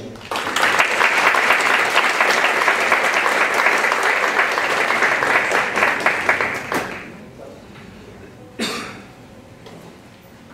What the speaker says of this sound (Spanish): Recibimos al licenciado Zuckerman con un aplauso